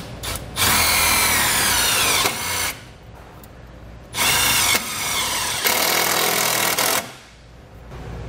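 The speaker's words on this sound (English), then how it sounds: "We'll use our 8mm socket and just run it right in." A power drill with an 8mm socket driving a screw into a 2020 Jeep Wrangler, whirring in two loud bursts, each followed by a brief slower run, with quiet gaps between them.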